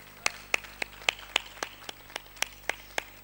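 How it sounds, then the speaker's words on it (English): Slow, evenly spaced handclaps, about a dozen single claps, faint and somewhat distant, at a plenary session in Peacock Hall during WEF 2017. "Can we get a big round of applause for this lovely lady?"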